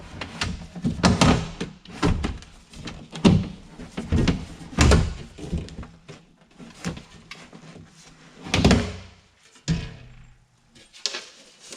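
Window glass is worked up and out of a BMW E46 car door, making a string of hollow knocks, thumps and scraping rattles in irregular bursts, close up and with no talking.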